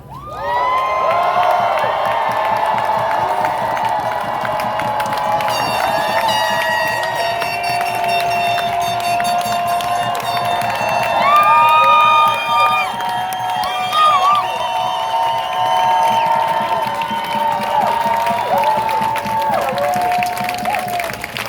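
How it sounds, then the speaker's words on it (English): A protest crowd at a women's march outside a jail in Denver screams and cheers loudly, a dense sustained roar of many voices with whoops and shouts throughout. "So they give a real loud scream right now so they know we're here."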